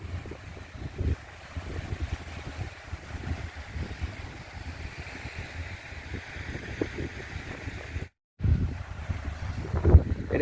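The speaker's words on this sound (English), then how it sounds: "It is a windy day." Wind gusts buffet the microphone beside Lake Okeechobee, a low rumbling roar with uneven surges and a brief dropout, water faintly audible beneath.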